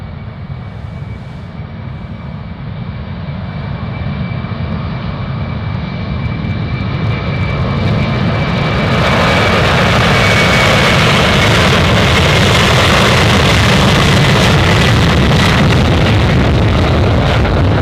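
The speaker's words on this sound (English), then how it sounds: "Every time 747 takes off here, it's a highlight." A Boeing 747 takes off at Anchorage airport: a loud, continuous jet roar that swells midway and holds at full power as the aircraft climbs away.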